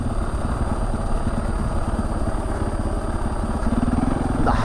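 An adventure motorcycle's engine while riding on a mountain road, a loud, steady, close throbbing drone with continuous rumble throughout.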